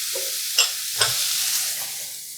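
Whole milk whisked into a butter roux for chicken fried steak gravy, a soft bubbling simmer with a few quick metallic whisk taps against the pan, close and fairly quiet.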